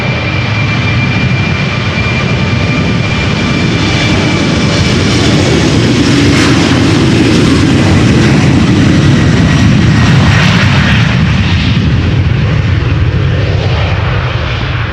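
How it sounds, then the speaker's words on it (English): A Lot Polish Airlines Embraer 195 jet bound for Warsaw from Amsterdam Schiphol gives a loud, close, sustained engine roar with a deep rumble and hiss that slowly shifts in pitch as it passes, no voices. "This is Lot, Polish Airlines, Embraer 195, a regular Embraer 195, not an E2, going to Warsaw."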